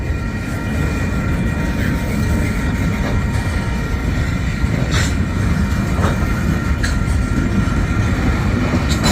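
Union Pacific freight train 9787 rolling past in St. Paul, a steady loud rumble of wagons with faint clickety-clack and occasional light wheel squeal throughout, no voices.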